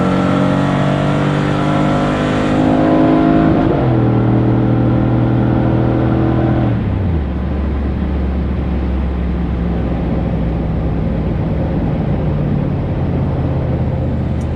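A 2002 Chevy Suburban's engine roars and revs hard as it launches down a drag strip, the pitch climbing through gear shifts before settling into a steady drone.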